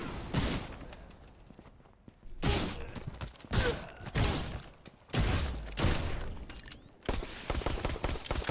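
Rapid SMG fire in the indie action game Suit for Hire, heard as several loud bursts of automatic shots separated by brief pauses, with thuds and mechanical clatter between volleys.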